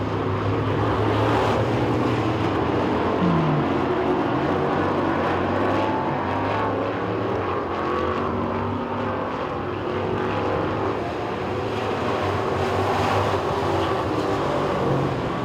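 Street stock race cars roar around the Talladega Short Track quarter-mile in a heat race, a loud, continuous, dense engine drone that holds steady throughout with no clear breaks.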